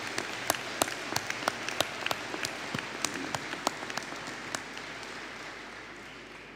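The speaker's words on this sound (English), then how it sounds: "a round of applause, please, for the Higher Certificate in Arts and Bar Supervision students" A graduation ceremony crowd for the Faculty of Business and Hospitality applauds, a dense wash of clapping with distinct individual claps standing out, gradually thinning and fading toward the end.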